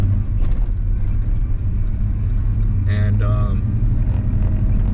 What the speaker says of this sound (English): It has a little valve tick in the motor.